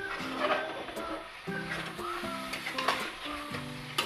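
Mutton korma with yogurt and ground spices being stirred in a pot, a steady sizzle with repeated scraping strokes close by, no voices.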